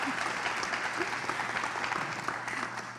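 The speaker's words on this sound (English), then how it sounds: "Let's give her a round of applause." Audience applause for the chairwoman at the Gwinnett County Citizens Academy graduation ceremony, steady, dense clapping that fills the room throughout.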